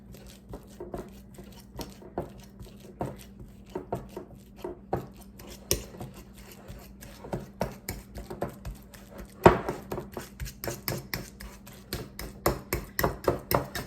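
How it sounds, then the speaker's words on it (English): Ripe bananas being mashed in a bowl for chocolate chip banana bread, heard as a steady run of soft, close taps and squishy presses that grow slightly busier toward the end, with one sharper knock midway. "Just mash those up good. And the riper they are, of course, the easier they mash."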